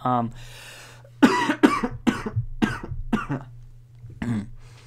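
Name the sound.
coughing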